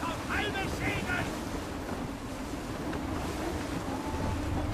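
Wind rushes steadily past a sailing ship at sea in the video game Assassin's Creed 3, a continuous broad roar with faint water wash beneath and a few brief high tones early on.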